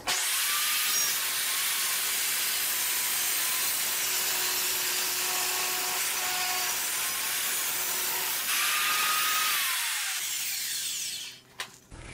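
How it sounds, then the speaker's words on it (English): A table saw rips a parallel edge along a six-foot 2x4, its loud steady whine running for about ten seconds with slight pitch dips as the blade loads, then spinning down near the end. "reset the fence to cut a parallel edge on the 2x4"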